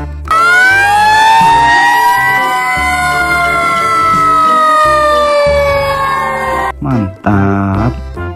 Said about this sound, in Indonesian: Di sini ada mobil damkar.